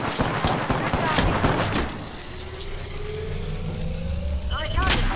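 Gunfire in the Apex Legends video game, with dense bursts of shots early on amid a busy mix of effects, easing off later, while a player talks over it.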